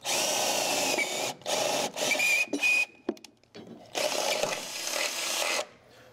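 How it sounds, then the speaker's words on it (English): A power drill with a 3/8 drill bit bores a hole during garage work on a vehicle, whirring in several loud, close bursts of a second or so, separated by short pauses and light clanks. "3/8 drill bit, that's your job,"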